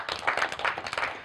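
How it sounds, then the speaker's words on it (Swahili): Audience applause at a public building-guidance event in Tanzania, a short burst of many hands clapping at moderate loudness. "Tuongeze makofi mengi."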